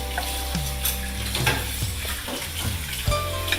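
Dosa batter frying on a hot pan with a steady close sizzle, broken by a few clanks and scrapes of a spatula as it is flipped and turned.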